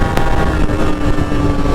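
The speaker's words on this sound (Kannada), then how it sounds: "ನೋಡಿ ಗೇರ್ ಡೌನ್ ಮಾಡಿ ಹೊಡೆದ ಅಂದರೆ" A Yamaha RXZ two-stroke motorcycle fitted with an expansion chamber pulls hard after a downshift, its loud, raspy exhaust roaring steadily up close with wind rushing past.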